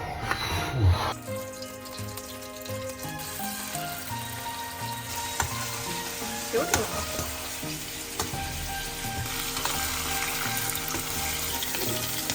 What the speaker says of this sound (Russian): Надо все расставлять, надо готовить уже этот стейк.